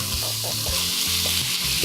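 Food fries in hot olive oil in a cast iron pan over medium heat, a steady loud close sizzle with faint stirring scrapes underneath.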